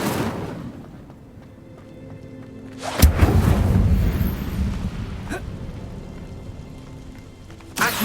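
An Incendio fire spell in Hogwarts Legacy erupts in a sudden loud roaring burst that flares and slowly fades over a low rumble, followed by a sharp crack and another burst near the end.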